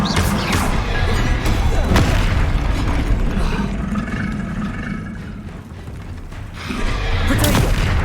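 Incendio fire spell cast in the Hogwarts Legacy video game, a loud roaring fiery whoosh with booming bursts that swells, dips briefly and flares up again, sustained and close.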